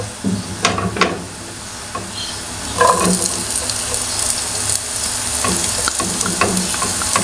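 Onion dropped onto browned garlic in a non-stick pan while cooking chowfan, a loud crackling sizzle with spatula scrapes and stirring knocks, settling into a steady fry.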